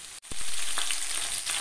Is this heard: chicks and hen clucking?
no